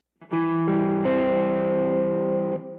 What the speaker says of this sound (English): Perhaps the most useful one is something called the first inversion major triad.